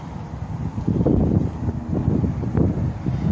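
Cold wind blows outdoors, buffeting the microphone in a low, rumbling, gusty roar that swells and eases throughout.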